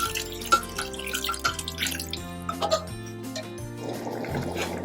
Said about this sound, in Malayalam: നമ്മൾ ചേർത്ത് കൊടുക്കാൻ പോകുന്നത് മട്ടൻ വേവിച്ച വെള്ളമാണ്.